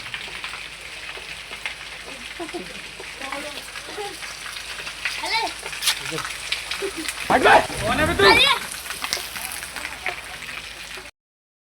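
Heavy rain pours down in a village with a dense, steady hiss and patter on surfaces, while people talk and call out over it, with louder bursts of activity near the end.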